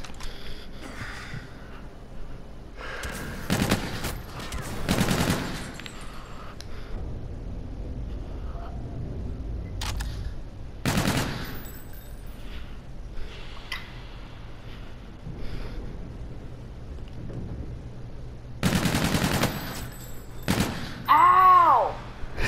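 Scattered gunshot bursts in a one-on-one video game match, a few loud volleys spaced several seconds apart with quieter gaps and faint effects between.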